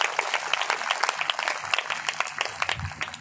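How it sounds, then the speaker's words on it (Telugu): A church congregation claps together, a fairly close burst of irregular overlapping handclaps with a few voices murmuring beneath. "కొట్టాలి చప్పట్లు ఒకసారి."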